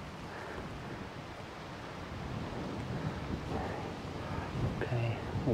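Wind gusts outdoors during a fly fishing outing, a broad, rushing roar buffeting the microphone that swells slightly toward the end, with faint speech under it.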